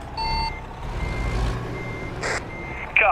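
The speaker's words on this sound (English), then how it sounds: "literally start reversing and watch for the trailer swing" A truck in American Truck Simulator sounds its reversing beeper, a clear high electronic tone over the low rumble of the idling engine, with a hiss of air near the end.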